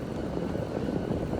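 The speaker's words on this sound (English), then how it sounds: "you can hear the big air handler" A big air handler runs steadily nearby, giving a broad, even low-frequency roar with no breaks and no voices over it.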